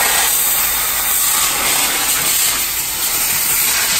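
Compressed air blasts over a Maruti Suzuki Swift at a car workshop, a loud, continuous, broadband hiss that holds steady throughout with no pauses.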